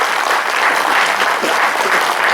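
An audience at a Hindi poetry gathering applauds steadily, a dense, loud wash of clapping that carries on without a break.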